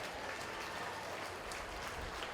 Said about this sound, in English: give all 7 of those kids a round of applause as they head out